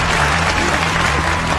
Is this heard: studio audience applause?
yes